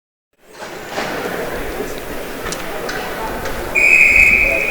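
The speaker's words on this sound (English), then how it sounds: "that will be a whistle" A referee's whistle at a college ice hockey game, Buffaloes versus Hurricanes, shrills loudly near the end over ongoing arena crowd murmur and skate noise.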